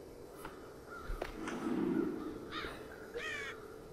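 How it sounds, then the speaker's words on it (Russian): A crow in the video game Child of Light caws several times in short, raspy bursts, the last two louder and closer, over a soft ambient game backdrop. "Во, ворона бухает."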